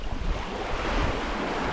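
Steady wind blows across small choppy waves on the water at Deception Pass, a dense continuous rush with wind buffeting the microphone and no voices.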